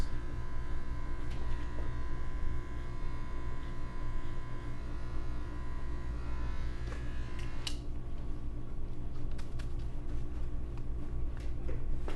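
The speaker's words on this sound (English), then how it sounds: "Just removing the bulk from her hairline by going at a 45-degree angle with my adjustable clippers." Adjustable electric hair clippers cut a woman's hairline in a salon, buzzing steadily and continuously at close range with a faint scraping texture.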